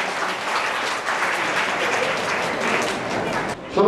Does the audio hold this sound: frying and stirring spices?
no